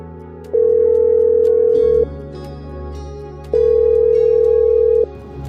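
A telephone ringback tone for a call to a doctor plays twice, each a steady electronic tone of about a second and a half separated by a pause, loud and close with a faint hum underneath.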